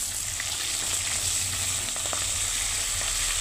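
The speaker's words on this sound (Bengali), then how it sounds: "মাথাগুলোকে ভালো করে ভেজে নেব" Fish heads fry in hot oil with a loud, steady sizzle and crackle that keeps going from start to finish, with faint stirring and no talk.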